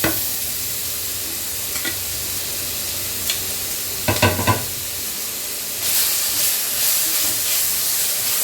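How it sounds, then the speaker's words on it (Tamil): Tomatoes sautéing in a pan for kadalai curry give a steady sizzle, with a few sharp stirring scrapes near the middle and a brighter, louder hiss in the last few seconds. No voices are heard. "நல்லா தக்காளிலாம் நல்லா வதங்கணும்."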